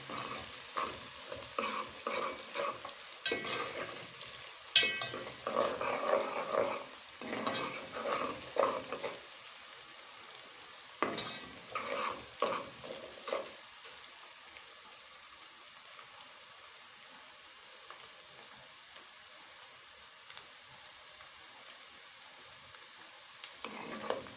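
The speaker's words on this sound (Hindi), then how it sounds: "अब मैं इसे जब तक भूनूंगी जब तक इसमें लाइट सा कलर नहीं आ जाता।" Moong dal roasting in a pan while being stirred, with scraping and soft sizzling in busy bursts over the first half, then only a faint, steady sizzle.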